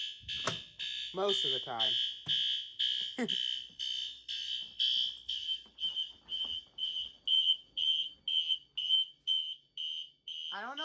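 System Sensor Classic fire alarms sound loud and close during a system test, a steady piercing tone pulsing in rapid repeated bursts throughout, with brief talk near the start and end.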